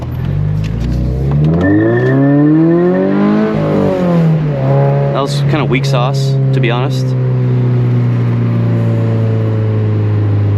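A 2022 Subaru BRZ engine revs and climbs in pitch, then settles into a steady loud drone, with someone talking over it throughout.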